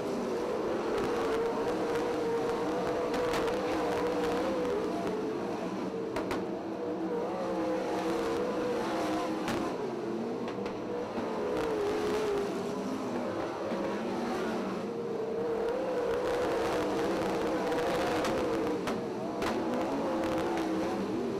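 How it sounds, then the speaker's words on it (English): Race cars circling Ocean Speedway late in a race, engines droning steadily with rising and falling pitch as the pack passes, a continuous loud roar with no pauses. "Brad Furr will need a little bit of help to reel him in with 13 laps to go."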